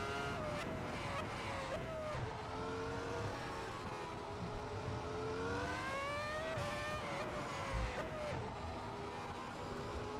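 A 2004 Formula One car in the Assetto Corsa racing game screams along a circuit, its engine pitch rising and then dropping sharply under braking, with faint tyre noise, steady and moderately quiet.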